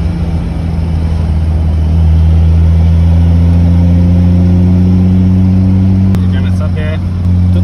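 Car engine in a night-time car rental driving video game, a steady droning hum with rising harmonics as it revs and accelerates, loud and continuous, with a brief clatter near the end.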